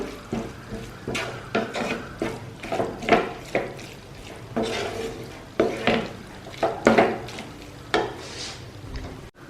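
A spatula scrapes and stirs Chinese-style egg fry, an egg burji, in a pan in repeated rhythmic strokes over a low sizzle, close and fairly loud.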